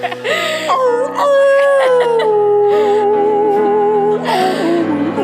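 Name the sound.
dog howling as if singing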